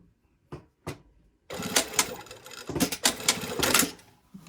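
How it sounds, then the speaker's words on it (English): Sewing machine top-stitching a garment pocket, a couple of short clicks followed by a close, uneven run of rapid mechanical stitching. "I'm just going to sew along that top stitch line."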